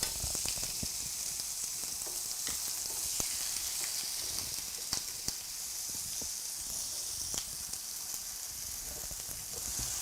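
Meat topped with butter sizzles and fries steadily in a pan, a constant close hiss dotted with small sharp pops and crackles, no voices over it.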